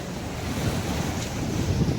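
Sea waves wash along the shore near a seaside cave, giving a short, steady roar of surf mixed with wind buffeting the microphone.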